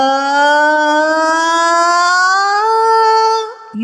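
During a vocal exercise, a singer imitates a siren with one sustained voice that glides slowly upward in pitch, smooth and loud, leveling off near the top before breaking off abruptly.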